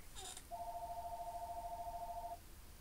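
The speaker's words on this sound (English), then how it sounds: "Is that really the phone ringing?" A house phone rings in a single sustained electronic trill lasting about two seconds, clear and moderately loud over a quiet background, preceded by a short chirping tone.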